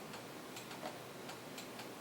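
Timer ticking beside tattoo equipment during sterilization, faint evenly spaced clicks about every fifth of a second over a steady hiss, with no talk.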